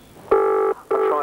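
Telephone dialing tones, two loud, clean electronic beeps, the first longer than the second, separated by a short gap and heard alone without talk.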